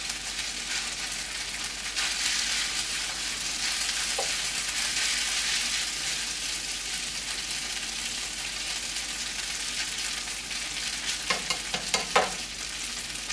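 Japchae noodles cook in a pan in a mountain home kitchen with a dense, even sizzle that holds steady, and a few light stirring clicks come near the end.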